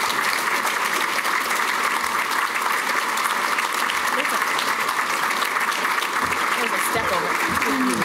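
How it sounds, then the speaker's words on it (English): A crowd applauds steadily and vigorously, a dense wash of clapping that continues throughout, with some voices faintly mixed in. "can we have a round of applause for Commissioner Rhee?"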